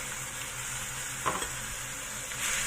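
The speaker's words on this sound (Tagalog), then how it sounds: "I-fry lang natin sandali bago tayo maglagay ng sauce." Beef sizzles in a pan with browned onions, a steady hiss with a brief stirring scrape in the middle and a slight swell near the end, with no talking.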